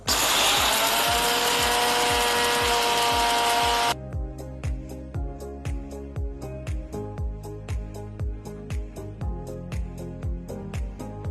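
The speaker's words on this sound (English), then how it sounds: "transfer it to a mixer jar and grind it to a nice fine powder" A kitchen mixer grinder whirs loud and steady for about four seconds as it grinds cooled roasted spices for Chettinad pepper chicken masala into a fine powder, then stops, and a series of rhythmic knocks and taps follows.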